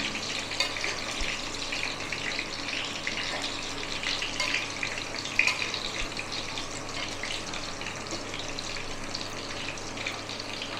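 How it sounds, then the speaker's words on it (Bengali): Chicken pieces fry in hot oil for chili chicken, a continuous bright crackling sizzle that holds steady throughout at moderate loudness, with no speech. "আর একটু ফ্রাই করে নেবো।"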